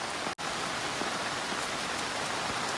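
Heavy rain pours down at a night campsite in a steady, dense hiss of drops hitting a surface, continuous apart from a momentary break near the start.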